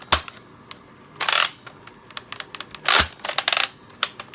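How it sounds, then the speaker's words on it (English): A Nerf tactical toy blaster fired with slam fire gives a sequence of sharp plastic snaps and clacks, some longer bursts of priming and firing, close and loud with no talking. "Now we're going to be shooting this tactical gun. Also features slam fire."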